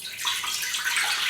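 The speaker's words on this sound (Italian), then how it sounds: "Mettiamo l'acqua" Water poured into a pot to prepare a dye bath with cream of tartar for bean dyeing of fibre, a steady broadband rush of pouring and splashing, close and continuous, with no talk.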